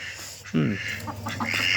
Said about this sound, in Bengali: এই যে এগুলো সব পোষা হাঁস বুঝছেন